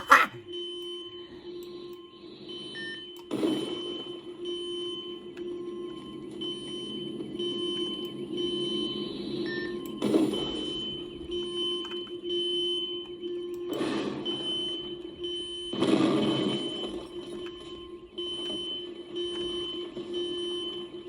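A school alarm rings in the destruction game Teardown, a steady electronic tone droning continuously for a long stretch, punctuated by several louder crashing bursts.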